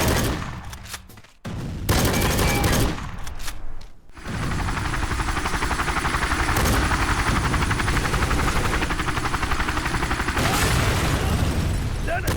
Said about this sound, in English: Definitely no shortage of explosions around either, really showing off that Havoc engine